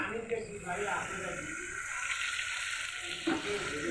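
A spoon stirs raw mango pickle after white vinegar has been added, a soft wet scraping and squelching with a faint sizzle-like hiss, close and steady for a few seconds with no voice over it.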